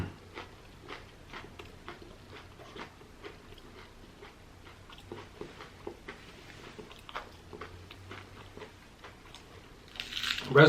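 A crunchy onion ring is bent and eaten, making a close series of sharp crackling bites and crunches and ending in a louder crisp burst.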